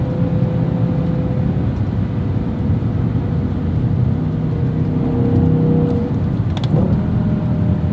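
A 2007 BMW M5 (E60) V10 engine drones loudly and steadily up close, its pitch building slightly as the revs climb, with no talking.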